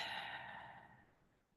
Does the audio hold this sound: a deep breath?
yes